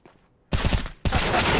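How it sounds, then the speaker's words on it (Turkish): Desert Eagle pistol fire in Counter-Strike: Global Offensive, two loud, close bursts of gunfire with a brief quiet gap between them and no talking. "İyi deagle'la vuruyorlar."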